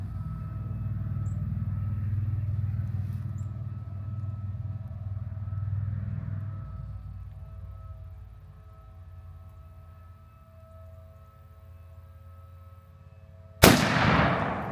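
A single sharp, loud rifle shot from a super light Montana Rifle Company .375 H&H cracks near the end after a long stretch of low rumbling background, followed by a brief echoing tail.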